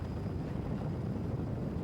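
Rushing, wind-blown roar of an offshore powerboat with twin 454 fuel-injected engines and Bravo outdrives running on open water during a New York City poker run, engine drone buried under wind and water noise.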